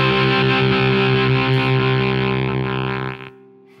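An electric guitar played through a Zvex Fuzzolo fuzz pedal holds a thick, buzzy distorted note that sustains for about three seconds and then cuts off abruptly as the gate closes, leaving faint residual hum.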